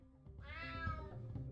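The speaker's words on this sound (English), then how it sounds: "Damn cat." A cat in the video game UnMetal gives a single drawn-out meow, rising and then fading over about a second, loud and alone.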